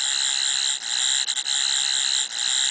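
A Doctor Who Eleventh Doctor sonic screwdriver toy plays a hidden electronic sound, a shrill, continuous warbling tone, steady and loud, with a few short breaks where it briefly dips.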